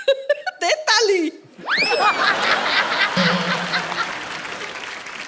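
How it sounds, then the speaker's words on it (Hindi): Studio audience on a comedy show clapping and laughing, a broad wash of applause rising after a burst of loud voices and whoops, with a low tone underneath. "दे ताली।"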